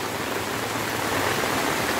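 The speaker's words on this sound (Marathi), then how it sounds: "त्या रोडवरून हे पाणी येतं सगळं" Floodwater rushes off the road into a flooded market street, a continuous, full-bodied gushing roar that stays steady and fairly close; no voices are heard.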